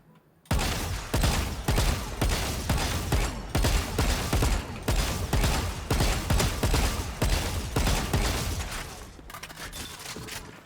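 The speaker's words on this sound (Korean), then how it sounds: "딱 쐈을 때는 그냥 진짜 기본 총 쏘는 느낌이긴 해. 거기다 그냥 총 소리만 살짝 좀 쨍한 느낌?" Rapid, loud bursts of automatic rifle fire from the Arcane Jinx Vandal skin in Valorant, firing in dense repeated volleys with brief pauses, close and punchy.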